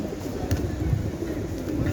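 Pigeons coo close by outdoors, a continuous low, throaty murmuring with soft rhythmic swells.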